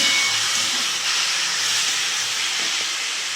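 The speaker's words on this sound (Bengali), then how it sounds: "কবে থেকে সেই ভাবছি একটুখানি শাক খাবো, তো কলমি শাক ভাজা ভাজা করছি।" Kalmi shak (water spinach) fries in a pan with a loud, continuous sizzling hiss that holds steady throughout and is close and alone.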